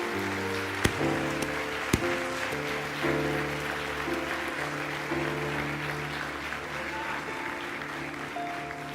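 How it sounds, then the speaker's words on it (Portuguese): Congregation in a church claps together in a soft, rain-like patter while sustained keyboard or organ chords play underneath, staying moderate and even throughout. "Pode aplaudir ao Senhor."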